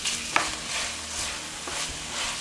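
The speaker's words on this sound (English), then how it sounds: "add the beef and the pork in. And make sure you break all the meat up" Beef and pork mince fries in a pan for lasagne sauce and is stirred and broken up, with a steady loud sizzle and occasional scraping knocks.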